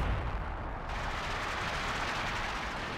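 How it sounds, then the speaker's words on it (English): Katyusha rocket barrage striking a base in the real-time strategy game Company of Heroes 2, a dense, continuous roar of rumbling blasts and booming explosions at steady loudness throughout. "so we've got a Katyusha barrage on the base"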